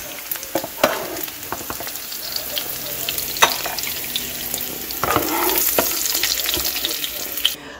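Scallops pan-searing in oil sizzle loudly and continuously, with sharp crackles and pops and a few clatters as they are moved, heard up close with no speech.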